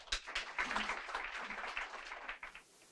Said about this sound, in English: thank you very much indeed for your warm applause